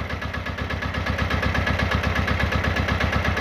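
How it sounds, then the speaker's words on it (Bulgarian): Diesel engine of a two-wheel walk-behind tractor (tiller) running steadily at idle, a close, loud rapid chugging pulse with even rhythm throughout and no talk. "който е пожелал този мотокултиватор да стане с дизелов двигател"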